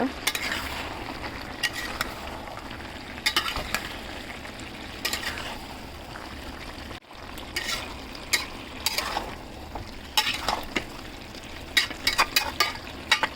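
A pot of chicken curry with cabbage, potato and tomato being stirred after simmering covered, with intermittent scraping and clattering strokes of a spoon over a soft steady sizzle, close by and without speech.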